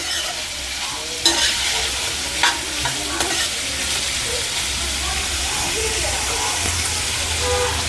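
Onions for samosa filling fry in a pan with a continuous sizzle, punctuated by a few spoon scrapes and clinks as they are stirred, with a faint voice in the background.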